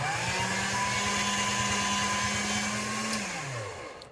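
Polymer clay passes through a motorized clay conditioning machine set to its thickest setting, a steady close whirring motor drone that winds down in pitch at the end.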